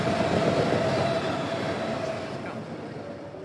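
Inside a video game, a subway car rolls along the rails with a continuous heavy rumble and a thin squealing tone. The sound eases slightly toward the end, with no talking over it.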